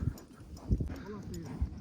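Horse hooves trotting on a ride, giving a few soft, dull thuds spaced across the moment while people talk over them near the microphone.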